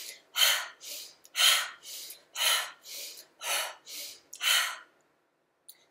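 Bellows breath exercise: a person takes rapid, forceful breaths close to the mic, about nine strong rhythmic whooshing pulses roughly every half second, alternating louder and softer, then silence.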